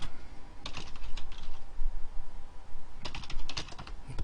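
A computer keyboard typed on in two quick bursts with a pause between, crisp close key clicks over a faint steady hum, no talk.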